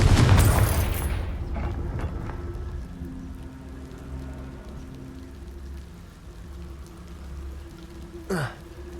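Confringo fire spell in a Hogwarts video game: a loud burst of rushing, crackling blast at the start that fades into a low ambient hum, followed by a brief rising magical whoosh near the end.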